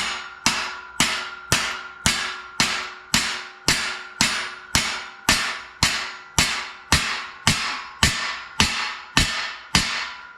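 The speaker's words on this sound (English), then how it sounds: "just take our handy dandy spacer and pound it in" A hammer drives a swingarm bushing spacer into a 1981 Can-Am vintage motocross bike, about sixteen evenly spaced sharp metallic strikes ringing out at a steady rhythm with no talk.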